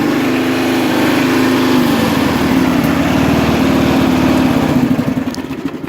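A small machine engine runs with a loud, steady buzzing drone and then gives a few sputtering pulses at the end.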